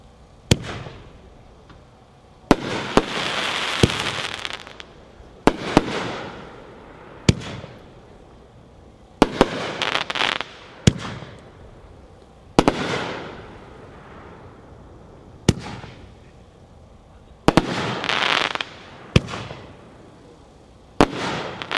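A fireworks cake called Bang Bang fires eight shots outdoors, each launch a sharp loud thump followed by a crackling burst, spaced every couple of seconds with no talking.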